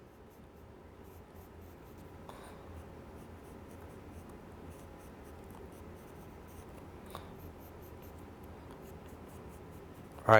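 A pencil sketches a circle freehand on paper, producing a steady, soft scratching rub that continues close and unbroken throughout.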